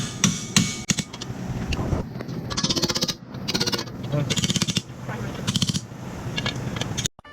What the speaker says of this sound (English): just hammer these bolts